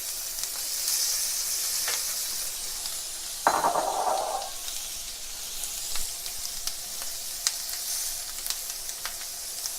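Shrimp sizzling on a hot grill, a steady bright hiss throughout with crackles, and a sudden louder burst of sizzle midway as pieces are moved or turned.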